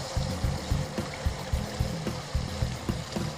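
Clean, filtered water flows into the fresh-water tank of a camping car or caravan as a steady watery rush, with a rhythmic low throbbing pulse repeating about every half second.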